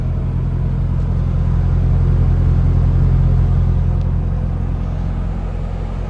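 A 2001 Chevy Camaro SS V8 idles with a steady, deep low rumble close by, swelling slightly in the middle as the engine revs a little, with no talking.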